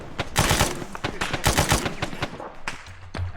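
A PKM machine gun fires in ArmA in several rapid bursts, loud and close, with sharp repeated reports in quick rhythm and brief pauses between strings.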